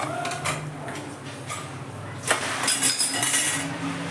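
Crispy fried baby corn lifted out of hot oil into a bowl, giving a run of light, dry crackling clinks and rustles that swell louder near the end.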